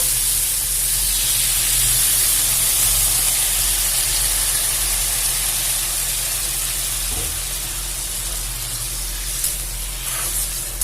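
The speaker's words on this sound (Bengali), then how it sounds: "এবার আমি জল দিয়ে দেব।" Water hits a hot pan of cauliflower, potato and fish curry with a loud, sustained broad hiss and steamy sputter that barely eases over about ten seconds, with no talk.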